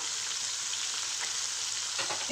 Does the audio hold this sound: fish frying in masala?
yes